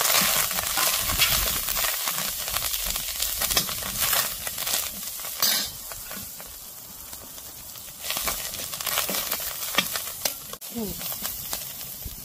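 Vegetables frying in hot oil with asafoetida for traditional Marathi jhirke, a steady close sizzle and hiss with stirring and clinks of a spoon against the pan, under a voice.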